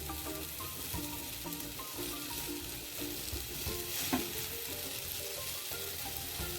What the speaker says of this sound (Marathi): डोसा आपला भाजून झालाय बघा यावरती लोणी घालूया आपण